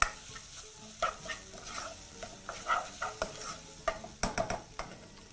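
Garlic, onion and ginger fry at medium heat in a pot for chicken biryani, a steady close sizzle broken by repeated spoon scrapes and stirring knocks.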